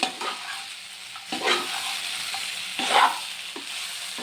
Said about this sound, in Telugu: వీటిని కొంచెం ఫ్రై చేసుకోవాలి